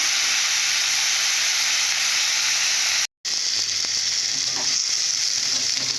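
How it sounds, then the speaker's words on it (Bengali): Potatoes frying in a pan give off a steady, loud sizzle that cuts out for a moment, then resumes with a few light stirring clinks. "ভালো করে ভেজে নেব এইভাবে"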